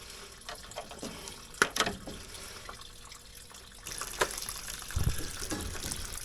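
Water runs and trickles as an electric 40-gallon water heater drains, a soft, uneven flow with scattered drips, clinks and light handling noises nearby.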